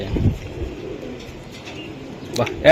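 Pigeons coo near a man, with low murmuring coos early on, then voices and a brief sharp sound at the end, over a faint steady background.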